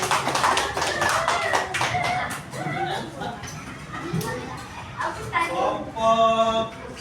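A school class claps hands in a classroom, with bursts of brisk, uneven clapping near the front mixed with chatter and light laughter, and a teacher's voice speaking toward the end.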